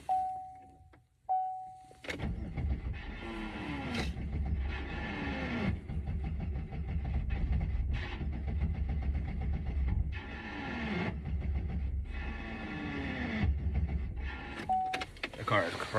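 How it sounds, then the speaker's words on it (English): A car engine cranks repeatedly without catching, a rhythmic, labouring starter whir in several long bursts, fairly faint, with short beeps at the start and end. "I'm going to try to start this car one last time."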